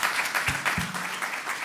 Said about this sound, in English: let's give Heather a clap, but we've all done that